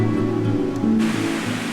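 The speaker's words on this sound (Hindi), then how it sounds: "इतना सुंदर वाटरफॉल मैंने आज तक देखा नहीं" Kuntroo waterfall in Odisha pouring through a rock arch from a cave, a continuous broadband rush of falling water, steady and close for under two seconds.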